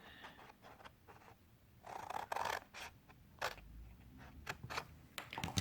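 Quiet scissors cutting card nearby, with a run of short crisp snips and some paper rustling and handling sounds in between.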